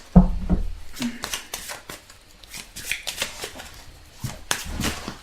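Tarot cards shuffled by hand in a series of soft riffling and tapping bursts, fairly close, with quiet gaps and faint speech-like murmurs between.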